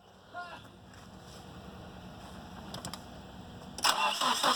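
Nissan 240SX running on old gas cranking over and catching, faint mechanical churning that builds to a louder burst of engine noise at the end, with voices talking around it.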